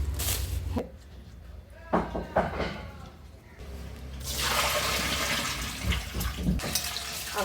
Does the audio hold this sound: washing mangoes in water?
yes